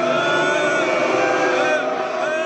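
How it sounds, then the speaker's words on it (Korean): Hong Kong football fans in a stadium booing the Chinese national anthem at a World Cup qualifier, a dense, loud, sustained wall of crowd jeering and whistling with no pause throughout. "중국 국가인 의용군 행진곡이 나오자 홍콩 팬들이 야유합니다."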